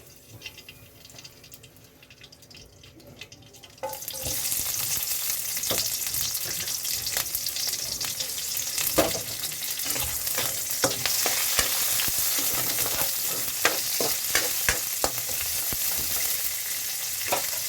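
Ampalaya (bitter gourd) and egg frying in a pan, a quiet stretch giving way to a loud, steady sizzle after a few seconds, with scraping stir strokes and occasional sharper crackles throughout, no talking.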